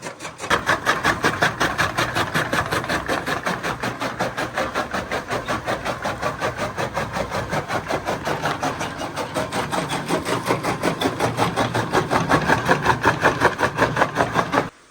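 An electric chaff cutter (toka) runs on a Punjabi village farm, a steady mechanical whir with a rapid, even rhythmic chop that continues close by for the whole stretch before stopping.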